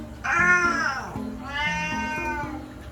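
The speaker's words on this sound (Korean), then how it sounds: "대표적인 고양이가 이제 불만족스러울 때 내는 야옹 소리거든요" A cat meows twice in dissatisfaction, each cry starting high, dropping, then lifting slightly at the end, with a whiny, complaining tone, close by.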